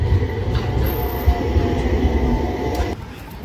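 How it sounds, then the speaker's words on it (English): A tram rolls through Stockholm with a steady, loud rumble of wheels on rail, then the noise drops off abruptly near the end. "A trolley tram train."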